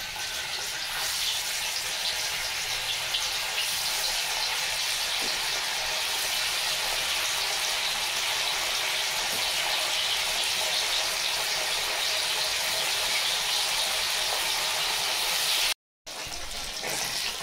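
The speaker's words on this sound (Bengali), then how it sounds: "দেখুন, পনির ভেজে নিচ্ছি।" Paneer frying in hot oil in a home kitchen, a steady, dense hiss and sizzle that runs unbroken and fairly loud, with one brief dropout near the end.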